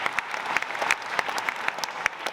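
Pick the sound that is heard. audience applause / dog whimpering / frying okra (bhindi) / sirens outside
audience applause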